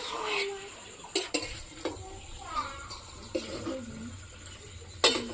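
Chicken stirred and fried in a pan for kosha, a steady sizzle broken by scraping clinks of a spatula against the metal, while someone talks over the cooking.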